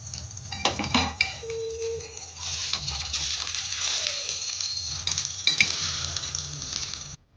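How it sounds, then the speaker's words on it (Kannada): Jackfruit paddu dumplings being flipped one by one in a paddu pan, with a busy run of metallic clinks, scrapes and tool-on-pan taps over a faint background sizzle, close and fairly loud, with no talking. "ಎಲ್ಲ ಪಡ್ಡುನ ನೀಟಾಗಿ ಉಲ್ಟಾ ಮಾಡ್ಕೊಳ್ಳೋಣ"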